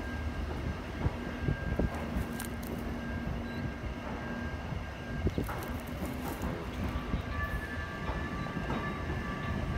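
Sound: Lynx light rail train arriving

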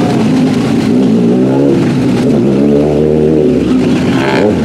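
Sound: Kawasaki ZX6R motorcycle engine revving in a video game

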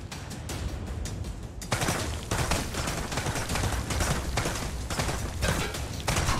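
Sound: gunfire in a VR shooting game

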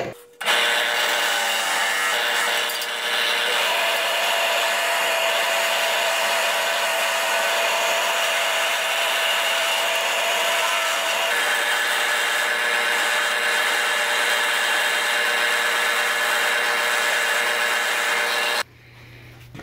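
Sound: 1-inch spherical burr on drill press carving wooden cork

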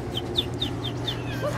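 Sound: person imitating a bird call

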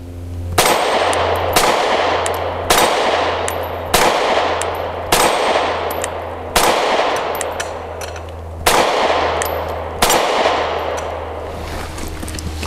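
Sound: gunshots from a Canik METE MC9 pistol

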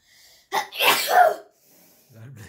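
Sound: sneeze

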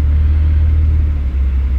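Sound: BMW M140i car engine

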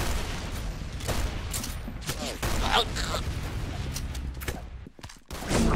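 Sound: gunfire in Roblox Arsenal video game

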